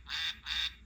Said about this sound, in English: quack, quack, quack, as all ducks do.